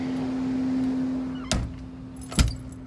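A house door is opened and shut, giving two sharp thuds about a second apart over a steady low hum.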